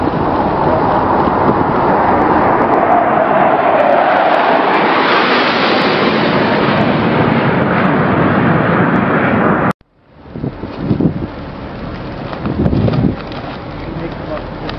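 A fixed-wing aircraft comes in low over a ship's flight deck at bridge-wing level, a loud rising roar that swells and peaks, then breaks off sharply, followed by gusty wind and sea noise.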